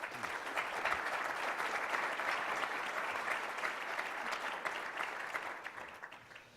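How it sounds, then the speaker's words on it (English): Sustained audience applause at a biotech association meeting session for the Jimmy Fund and Dana-Farber Cancer Institute: dense, steady clapping from a large crowd, even throughout and tapering slightly at the end. "So a round of applause for everybody, please."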